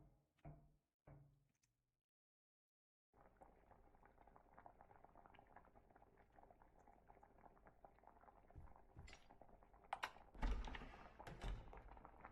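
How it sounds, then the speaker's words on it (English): A pot boils steadily in the Witch's House MV video game, a continuous bubbling wash that starts after a few quiet seconds and swells louder near the end, with a couple of brief thumps early on. "the sound of the pot boiling"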